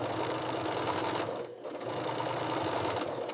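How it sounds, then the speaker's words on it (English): An industrial sewing machine stitching the shoulder seams of soccer jerseys in a factory: a steady, dense mechanical whir that dips briefly mid-run and then resumes at full speed. "The needle is threaded. The machine is set. Let the assembly begin. Shoulder seams first."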